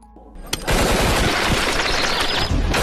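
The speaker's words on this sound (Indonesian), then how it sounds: "Para teroris langsung menembaki orang-orang tanpa ampun." Terrorists fire guns at people, starting with a single sharp shot and followed by sustained rapid automatic gunfire, loud and dense, with a few louder cracks within the burst.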